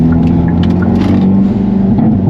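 A Hyundai Elantra N pulling hard out of a 90-degree corner, its engine droning loud and steady with a strong low hum throughout.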